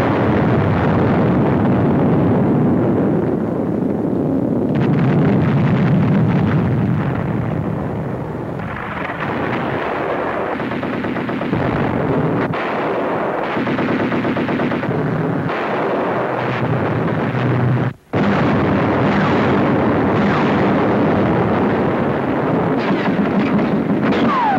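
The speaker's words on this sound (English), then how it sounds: "destroyers, and gunboats put out a devastating fire" Heavy naval gunfire from American destroyers and gunboats mixed with bombing during the Tunisia campaign, a dense, continuous roar of blasts and rumbling that stays loud throughout, broken only by one brief instant of silence.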